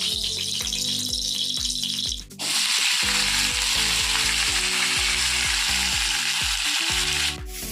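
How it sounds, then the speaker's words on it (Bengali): Beans, potatoes, carrots and pumpkin fry in a pan with a steady loud sizzle, overlaid by a repeating rhythmic mechanical hum that briefly drops out partway through. "সবজিগুলো মোটামুটি দেখো ভাজা হয়ে গেছে"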